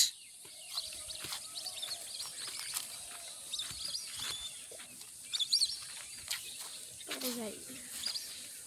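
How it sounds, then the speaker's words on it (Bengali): Scattered bird chirps and calls sound faintly from a distance over a steady background hiss, with a brief louder call near the end, deep in a forest in Gazipur. "চারপাশে কিন্তু শুধুই পাখির কলকাকলিতে মুখরিত একটি এলাকা"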